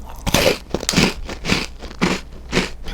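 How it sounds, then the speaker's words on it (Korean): Crisp bites into a frozen vegetable-cracker-flavored bakery snack from a Korean bakery, five loud close crunches spaced about half a second apart, each with a crackly crumbling tail. "처음엔 단단하게 씹혔다가 바삭바삭해요."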